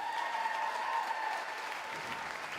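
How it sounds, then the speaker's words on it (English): School audience applauding the Battle of the Bands winners at a high school music show, a steady roomful of clapping and crowd noise, strongest early and easing slightly toward the end. "put your hands together for the winners of our Battle of the Bands"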